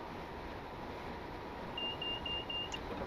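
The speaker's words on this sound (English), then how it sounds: "you're going beep beep beep beep beep beep beep." Repeated cab warning beeps from a train in Train Simulator 2020, a steady high-pitched pulsing tone that starts partway through and runs for about a second over a constant low rumble of the train.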